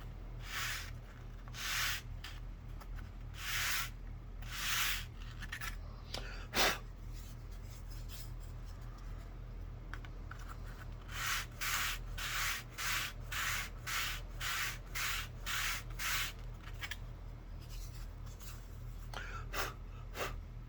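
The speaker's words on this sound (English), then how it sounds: "sandpaper." Sandpaper worked by hand over wood in steady back-and-forth strokes, a close, dry rasping that quickens into a fast run of short scrapes toward the end, over a low constant hum.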